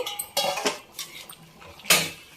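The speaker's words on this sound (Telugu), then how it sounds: "వెంటనే మూత పెట్టుకుందాం, ఆ స్మెల్ బయటికి పోకుండా." A metal lid set on a cooking pot of simmering lentil and drumstick soup, a few quick clanks and a sharp final clatter, close and brief.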